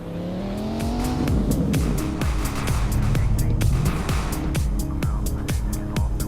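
A Lamborghini engine in a Roblox game revs hard and roars continuously, pitch climbing and shifting with sharp clicks and skids over it, loud and close throughout.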